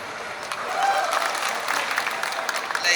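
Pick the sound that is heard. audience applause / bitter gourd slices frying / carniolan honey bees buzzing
audience applause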